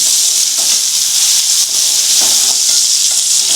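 Mutton keema and liver cooking in a pan, stirred and salted, with a loud, constant hiss of frying and soft scraping movement throughout, no talking.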